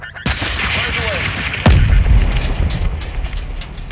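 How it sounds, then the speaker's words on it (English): A missile fired and exploding in Call of Duty MW2 on PS5: a sharp whoosh-crack, then a deep booming blast with a rumbling tail amid ongoing battle noise. "Who is shooting the missile?"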